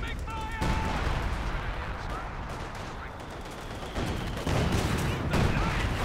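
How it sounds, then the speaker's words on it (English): A dense artillery barrage in Company of Heroes 2: heavy booms and gunfire rumble continuously in the foreground, growing louder toward the end, with a voice talking over parts of it. "And the artillery is flowing."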